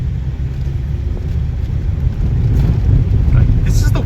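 A Ford Fusion rolls at low speed through a residential neighborhood on rough pavement, giving a steady, loud low road-and-engine rumble with some wind buffeting and no voices.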